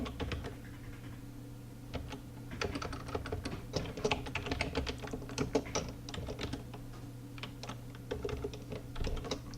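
A name is typed on a computer keyboard in bursts of quick, close key clicks with brief pauses between groups, set against a faint low hum.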